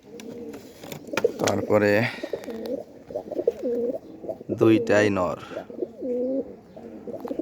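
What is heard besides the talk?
guest pigeons cooing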